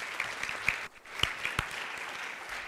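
A church congregation claps in praise to God with scattered, uneven handclaps. A few sharp claps stand out, and there is a short lull in the middle.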